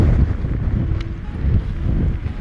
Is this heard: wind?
yes